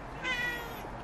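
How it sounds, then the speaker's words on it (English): A pet cat gives a single short meow, fairly close and moderately loud, over quiet room tone. "oh, that's my cat, Peaches"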